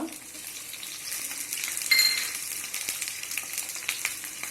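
Ginger pieces fry in hot oil for a Kerala-style beef fry, a steady close crackle and sizzle with a brief metallic clink partway through and no voices.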